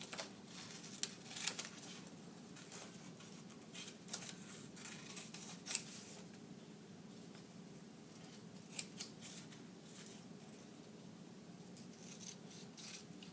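Scissors cutting through paper, quiet close snips and rustles repeating irregularly over a soft steady hum, no talking.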